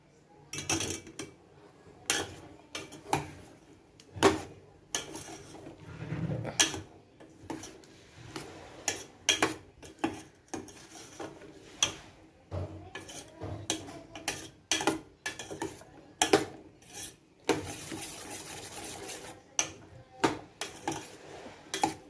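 Corn chaat ingredients being stirred together in a bowl with a spoon, a steady run of irregular clinks and scrapes of metal against the dish, close and fairly loud, with no talk.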